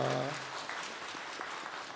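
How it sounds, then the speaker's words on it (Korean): A church congregation at a Sunday service applauds to welcome a newly registered member, a dense steady patter of many hands that runs the full two seconds after a brief low voice at the start. "우리 박수로 환영합니다."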